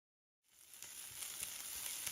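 Chicken strips cook in a pan over a low flame, giving a soft, steady sizzle that fades in from silence and keeps going at a low, even level.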